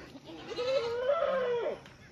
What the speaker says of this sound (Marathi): एकदम टॉप क्वालिटीच्या जवळपास 50 शेळ्या आहेत उपलब्ध